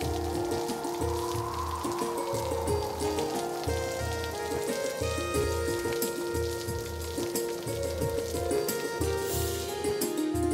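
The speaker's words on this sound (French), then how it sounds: "Il pleut, viens avec moi." Steady rain falling throughout, an even hiss of drops on surfaces lasting the whole stretch, mixed with rhythmic low music and a sustained tonal drone.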